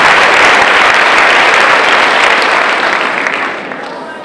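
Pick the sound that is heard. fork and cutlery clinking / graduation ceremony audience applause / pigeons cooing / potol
graduation ceremony audience applause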